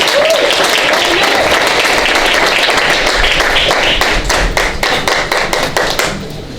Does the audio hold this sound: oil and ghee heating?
no